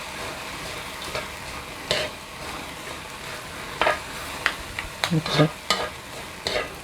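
Shrimp stirred in a pan with soy sauce seasoning, sizzling softly in the background while a utensil scrapes and clacks against the pan in scattered bursts, with a brief spoken word.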